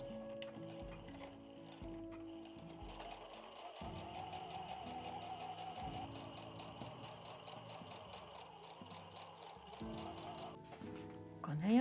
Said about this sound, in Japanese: ミシンで縫いますよ。